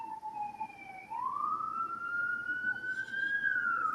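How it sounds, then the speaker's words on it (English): Ambulance or fire engine siren on a busy New York street, wailing and sweeping upward in pitch over four seconds, moderately distant amid faint traffic noise. "There's an ambulance or a fire engine."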